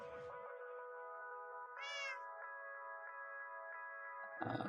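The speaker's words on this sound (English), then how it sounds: "Cat." A cat meows in a long, drawn-out call with a rising squeak in the middle, close and clear, with a brief rustle at the start and end.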